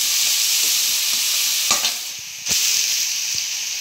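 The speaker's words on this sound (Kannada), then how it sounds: "ಒಂದು ಸ್ವಲ್ಪ ಎಣ್ಣೆ ಒಳಗೆ ಮಿಕ್ಸ್ ಮಾಡ್ಕೊಂಡ್ಬಿಟ್ಟು" Green chili paste is stirred into hot oil in a pan, a constant bright sizzle with a few scraping strokes of a spoon, close and loud, with no talking.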